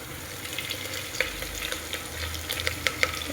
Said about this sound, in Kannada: ಈಗ ಕರಿಬೇವು ಹಾಕತ್ತೀನಿ ನೋಡ್ರಿ.